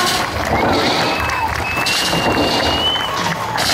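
Audience clapping and cheering at a show, a loud continuous wash of crowd noise with a whistle-like tone drifting through the middle.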